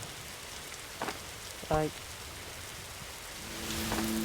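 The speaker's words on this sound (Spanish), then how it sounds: "Ya empezó a llover." Rain falling in the video game 99 Nights in the Forest, a faint steady patter throughout, under a brief voiced exclamation and a short tonal game sound.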